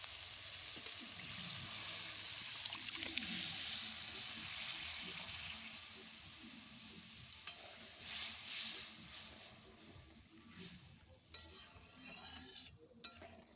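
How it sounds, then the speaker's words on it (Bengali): Boiled lentil dal, cooked earlier with turmeric, poured into a hot pan of winter vegetables and stirred, giving a steady wet sizzle with scraping and sloshing, louder at first and easing into intermittent clinks and stirs. "এর মধ্যে সেদ্ধ করে রাখা ডালটা দিয়ে দেব।"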